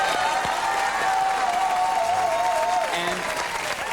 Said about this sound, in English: For a second, I thought I wasn't going to get the cheap round of applause.